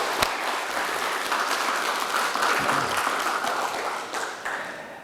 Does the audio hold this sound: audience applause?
yes